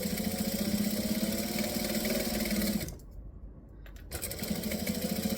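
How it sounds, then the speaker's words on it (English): A laser cutter runs in the background with a steady mechanical buzzing hum, cuts out into a quieter lull for about a second, then resumes at the same level. "If you hear weird noises in the background, it's just my laser."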